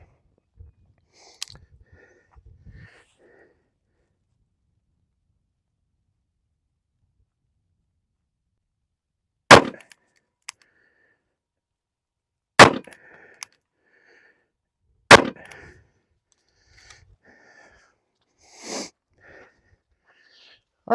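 Three sharp, loud gunshots from a Taurus 856 Defender .38 Special +P revolver at an outdoor range, spaced a few seconds apart, each followed by a brief echo, with a few faint soft sounds between.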